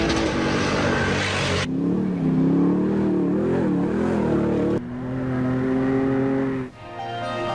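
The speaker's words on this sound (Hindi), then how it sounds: "खलजी प्रेली में फर्राटे भरती धूल उड़ाती गाड़ियों का मुकाबला" Rally cars race along a dusty stage, engines revving and rising in pitch as they pass nearby, one after another, with shifts in tone between bursts of acceleration.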